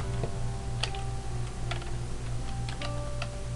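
Light typing on a computer keyboard sounds as a few sparse, soft clicks over a steady low electronic hum, close and quiet, with no one talking.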